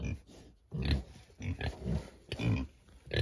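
Several pigs grunt and snuffle close by in a pig house built from pallets, with short irregular grunts repeating throughout and no talk.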